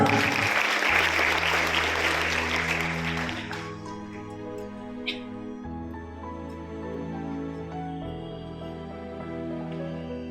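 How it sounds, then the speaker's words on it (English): An audience at a school Republic Day celebration applauds for a few seconds, the clapping quickly fading as steady background music carries on. "Please welcome her with a warm round of applause."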